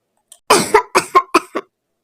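A cartoon bird character named Kuku coughs, a quick close run of about five or six dry, harsh coughs after a small lead-in, then silence.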